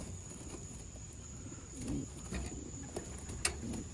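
Pigeons cooing inside cardboard shipping boxes being readied for transport, soft steady murmuring coos with occasional louder calls and a faint sharp knock, close by with no talking.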